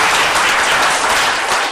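A lecture audience claps together, forming a loud, dense wash of applause that stays steady for the whole short stretch.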